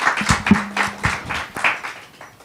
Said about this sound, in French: À nouveau, des applaudissements, s'il vous plaît.